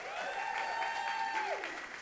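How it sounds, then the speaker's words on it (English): Round of applause from a live podcast audience at Tate Britain, steady broadband clapping throughout with a tonal whistle-like sound gliding over it. "Can we give a massive round of applause to Kia"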